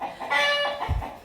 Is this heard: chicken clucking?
yes